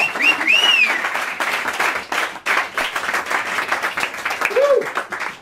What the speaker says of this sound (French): on applaudit le père du jour.